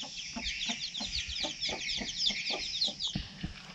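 Hen with her newly hatched chicks on a rural Vietnamese farm, soft repeated clucking pulsing at a steady rhythm under a continuous high chorus of chick peeps, close by.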